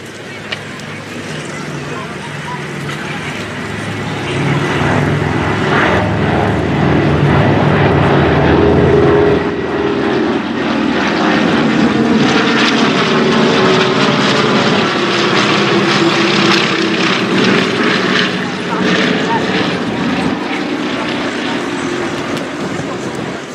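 Douglas DC-3 propeller airliner flying over an airshow, its piston engines building into a loud, sustained drone that rises and holds, with a commentator talking over it on the public address.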